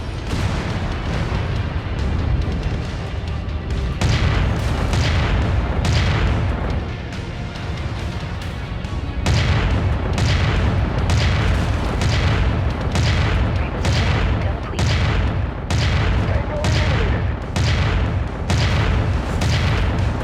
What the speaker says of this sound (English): Wow, that's a lot of gunfire.